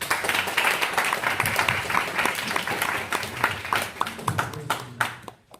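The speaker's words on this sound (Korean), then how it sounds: "우리 서로 격려의 박수 한번 칠까요?" A military church congregation claps together during a Sunday morning service, a lively burst of many hands with sharp individual claps standing out, fading to quiet at the end.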